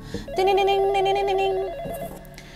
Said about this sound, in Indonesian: tiba-tiba dikejutkan sebuah panggilan telepon